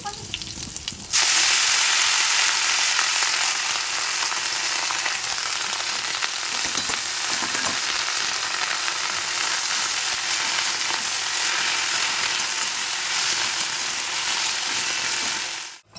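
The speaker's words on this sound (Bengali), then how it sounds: "এখানে শাকটা তো বসিয়ে দিয়েছি মটর শাক" Mustard-pea greens (motor shaak) cooking in a pan in a home kitchen, giving a steady loud sizzle and frying hiss that runs almost unbroken throughout, with faint clinks of stirring and no talk.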